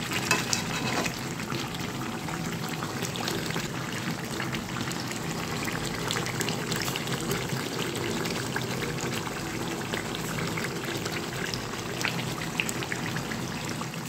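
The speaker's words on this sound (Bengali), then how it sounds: "এই যে এখন মাংসটা কষছে, হয়ে এসছে প্রায়, একটুখানি কষতে হবে" Chicken meat sautéing in a pan for a red chicken curry makes a continuous close sizzle with dense crackling pops. It holds steady for about fourteen seconds with no talking.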